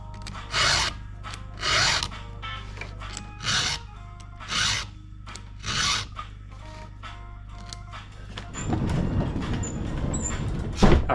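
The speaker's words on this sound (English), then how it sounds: "So first thing I need to do is sharpen my chainsaw." A hand file rasps across a chainsaw chain in five slow, even strokes, each a short broadband burst with gaps between, followed by a denser continuous rubbing scrape; close and alone, a low hum underneath.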